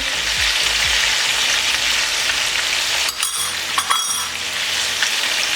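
Steady loud sizzling of chicken frying in hot oil in a pot, with a few metallic clinks of a utensil against the pot partway through.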